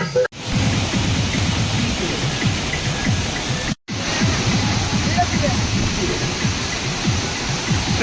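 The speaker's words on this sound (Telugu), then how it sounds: "మీకు వీలుంటే గండహతి జలపాతాన్ని సందర్శించండి" Gandahati waterfall in Odisha roars as a constant, dense wash of falling water, loud and even, broken only by two brief cuts to silence.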